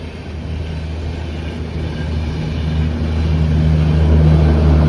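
The 17225 Narasapur Amaravati Express rolls through Munirabad station on platform 2, a steady low rumble of wheels and engine that grows louder as the train draws nearer, with no one talking.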